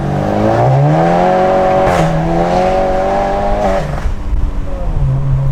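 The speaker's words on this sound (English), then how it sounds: "Just a rolling burnout." Rolling burnout in a stage 2 tuned Volkswagen GTI on snow tires with traction control off: the engine roars loudly and steadily in second gear, pitch climbing as the wheels spin and tires hiss on the surface, with a brief dip near the end.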